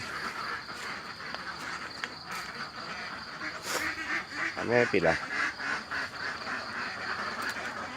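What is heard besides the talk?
ducks quacking in the morning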